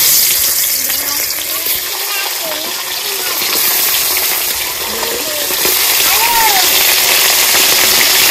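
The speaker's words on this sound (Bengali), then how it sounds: "তো মাছগুলো ভেজে নেবো, তেল গরম হয়ে গেছে।" Rupchand pomfret fish fry in hot oil with a loud, dense, continuous sizzle and spatter close by, and faint voices sounding underneath.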